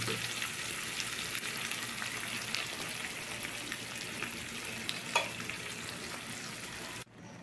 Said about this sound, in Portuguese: Olha o chiado, hein? Que chiado bom!